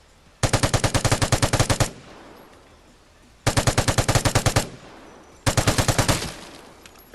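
A light machine gun in the game Vigor fires three long, rapid bursts, each about a second and a half of loud, evenly spaced shots, separated by short pauses with decaying echoes.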